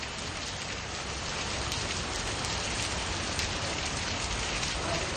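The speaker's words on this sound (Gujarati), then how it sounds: "છેલ્લા 2 કલાકમાં ધોધમાર વરસાદ થઈ રહ્યો છે" Heavy downpour in Banaskantha, a dense, continuous roar of rain striking surfaces, loud and steady throughout with no voices.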